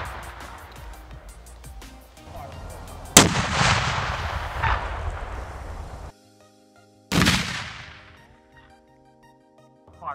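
A 3D printed explosive shaped charge detonates outdoors, a sharp loud blast with a rolling decaying rumble, followed a few seconds later by a second sharp boom, with quiet gaps between.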